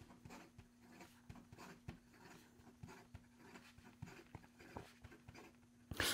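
Skogsy Cholla Micarta fountain pen with an extra fine nib scratches quickly across paper in a steady run of short, close, faint strokes, with a low hum underneath.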